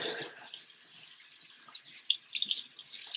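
Water runs and splashes as a dirty makeup brush is swirled gently in circles under a tap, with soft drips and swishes close up.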